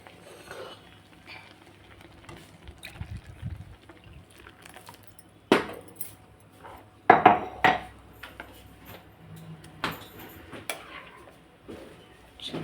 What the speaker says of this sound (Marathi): हलवून घेऊ भाजी